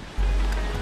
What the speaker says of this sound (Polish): Do tego te fale.